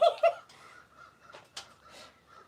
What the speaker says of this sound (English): They said they can hear the crows.